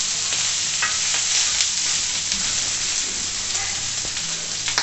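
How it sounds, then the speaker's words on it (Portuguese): Bacon and linguiça sausage frying on a plow disc over a stove, with a dense, steady sizzle and crackle throughout and occasional faint scraping, no voices. "Vou deixar fritar bem para poder colocar os outros ingredientes."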